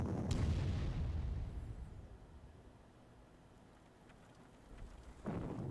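Artillery fire in the strategy game Panzer Corps: a deep, rumbling boom opens, fading into a low sustained roll, then a second heavy blast hits near the end, all distant-sounding and without voices.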